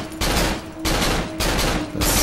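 Repeated gunshots fired at barrels in the horror game Cry of Fear, four loud, harsh blasts spaced about half a second apart, each with a short ringing tail.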